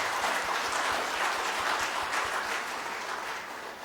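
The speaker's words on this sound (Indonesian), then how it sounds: "tepuk tangan yang meriah" An audience claps in welcome for the Governor of West Java at a provincial anniversary celebration, a broad, steady round of applause that stays full before easing slightly toward the end.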